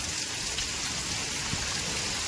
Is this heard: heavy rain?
yes